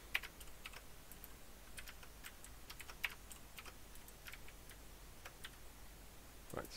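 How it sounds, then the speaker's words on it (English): Irregular, soft clicking of keys being typed on a computer keyboard, with scattered quiet taps and a few louder strokes, fairly faint and close, with no voices. "Struggling a bit at the moment typing."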